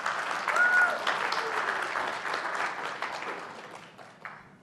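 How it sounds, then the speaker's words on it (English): A church congregation at a Sunday service breaks into warm, sustained applause, a dense wash of many hands clapping that slowly fades over a few seconds. "Please give Debbie a round of applause"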